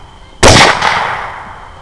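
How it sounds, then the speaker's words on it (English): A single loud, close gunshot rings out during a hog hunt, a sharp crack that fades into a long echoing tail across open ground. "I'm going to go ahead and start shooting."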